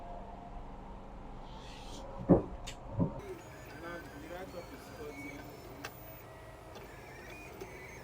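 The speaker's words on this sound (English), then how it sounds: "The write-up is on the machine printing right now" A T-shirt printing machine working on a name design, a faint, steady mechanical hum with a few soft clicks, heard alongside a couple of brief louder knocks.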